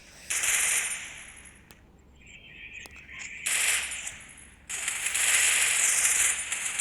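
Video game gunfire in Free Fire: bursts of rapid automatic fire in several dense volleys with brief gaps and a few isolated shots, loud and close, with no talk over it.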